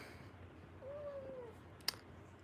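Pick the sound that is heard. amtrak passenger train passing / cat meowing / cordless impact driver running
cat meowing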